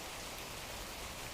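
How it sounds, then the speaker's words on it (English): Steady rain falls on a grey day, a soft, even hiss that stays faint and constant with no voices over it. "It is raining."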